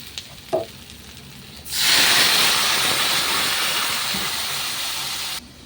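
Water poured into a hot pan of potato, pumpkin, pointed gourd and shrimp curry sets off a sudden loud, sustained steam hiss and sizzle that fades slightly over several seconds, after a few quiet clinks.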